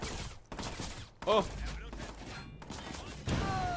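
Bursts of rapid gunfire in the video game Watch Dogs 2, sharp cracking volleys broken by brief pauses, with a man exclaiming over the shots.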